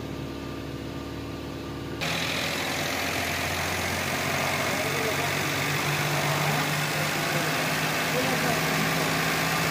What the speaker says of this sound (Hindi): ये देख रहे हैं खुद ब खुद ऑटोमेटिक ना इसकी रेस बढ़ रही है।